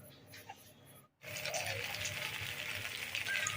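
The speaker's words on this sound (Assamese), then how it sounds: "মিঠাতেলখিনি গৰম হোৱাৰ পিছত কোফ্তাকেইটা দি দিছোঁ।" Fish kofta dropped into hot mustard oil in a kadai: quiet start, a brief pause, then a steady loud sizzle and bubbling frying that continues without talk.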